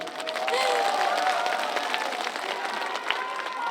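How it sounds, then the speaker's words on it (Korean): Outdoor crowd at a county day celebration concert applauding and cheering after a stage host's call, a broad, continuous roar of clapping that stays loud for the whole stretch. "큰 박수 한 번 좀 보내주시죠."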